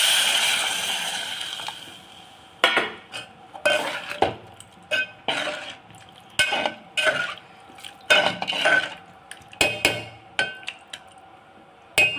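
Tamarind water poured into a pan of simmering puli kuzhambu, a brief hissing rush, followed by repeated metal spoon clinks and scrapes against the pot as it is stirred.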